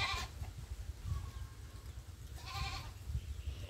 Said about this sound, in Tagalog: Yan po yung mga alaga ni Edgar na baka at mga kambing.